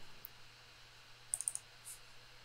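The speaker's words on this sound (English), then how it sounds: "And we're going to double click here." A computer mouse clicks softly in a quiet room, a quick cluster of light, crisp taps, including a double click, over a faint low hum.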